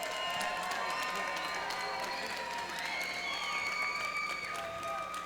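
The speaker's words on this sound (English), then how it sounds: "let's give both of these fighters a big round of applause." Crowd at an MMA event, Shamrock FC 272, applauds and cheers for both fighters after the main event, a busy arena roar with whistles and shouting voices mixed in.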